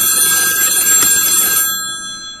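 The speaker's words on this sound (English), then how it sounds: "Answer that phone. It's so annoying." Electronic telephone ringtone chiming with bright tonal beeps, loud and close for about a second and a half before cutting off and leaving a faint steady tone.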